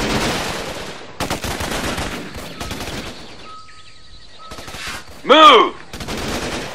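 Bursts of gunfire from the Xbox 360 game Raven Squad crackle through a combat scene, broken by short pauses and a sharp high electronic tone, while a voice shouts briefly.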